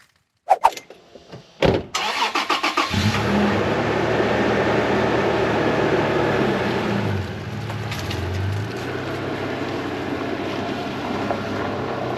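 Toyota FJ Cruiser truck: door and cabin clunks, a starter cranking that catches into an engine start, then a steady idling rumble that shifts in pitch as it pulls away, close and loud.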